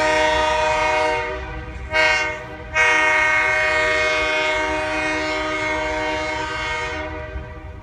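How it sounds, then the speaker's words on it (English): Great Lakes Central locomotive 398 blasting its multi-chime horn at a road crossing near Traverse City, Michigan: a long loud blare, a brief break, then another sustained blast that tapers off. "the train was crossing the crossing of 3 Mile Road."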